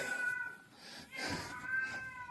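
Fighting cats let out drawn-out meows and caterwauling yowls, two strained cries separated by a brief harsh hiss, fairly clear though a little distant, with no talking over them.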